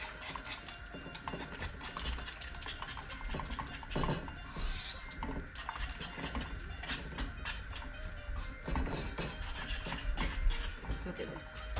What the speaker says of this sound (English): So keep on stirring.